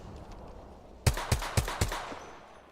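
Video game gunfire: four evenly spaced, punchy shots in quick succession, moderately loud over a quiet background, with a short fading tail.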